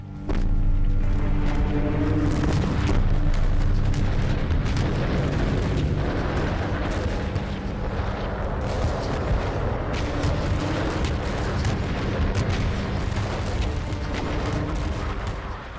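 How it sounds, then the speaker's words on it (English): Artillery pounds the German line at the Somme in 1916, a dense, continuous roar of heavy booms and blasts rumbling without pause, loud and overlapping, with no voices. "Sergeant Tawney witnesses the final frenzied bombardment of the German line."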